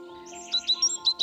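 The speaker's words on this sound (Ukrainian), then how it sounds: "горобець" A sparrow chirping, several short bright chirps in quick succession, near and clear over a soft sustained musical tone.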